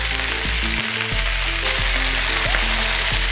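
Bambino cabbage with dried chilies and sugar frying hard in olive oil, a loud, dense sizzle with rhythmic low knocks of a pan being tossed or stirred.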